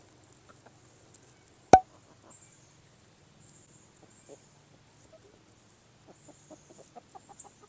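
Several chickens cluck softly in a backyard chicken run, scattered low clucks growing busier toward the end, with one sharp loud knock partway through.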